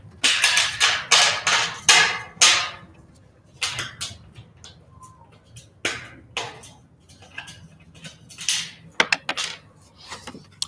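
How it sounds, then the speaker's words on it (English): Metal clinks and scrapes as a nut is worked onto a bolt while a sukkah is assembled, a run of sharp, uneven metallic taps and jingles close by, with quieter gaps between bursts. "I think I need to use a different nut because this one's not going on easily"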